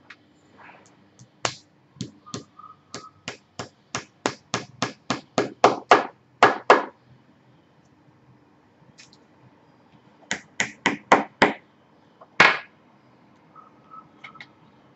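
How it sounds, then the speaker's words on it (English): Sharp, ringing hammer strikes driving nails into a board for string art, in quick rhythmic runs, several volleys of blows separated by short pauses, close and loud. "hammer away"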